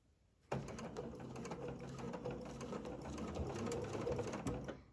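Bernina B735 sewing machine stitching a quilted placemat: it starts abruptly after a short quiet and runs at a fast, even needle rhythm, close and clear, with no talking.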